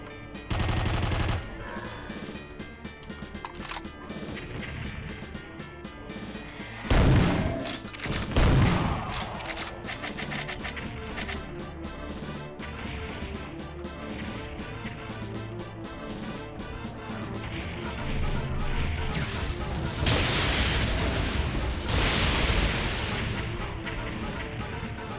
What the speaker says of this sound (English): Oh, he was shooting someone.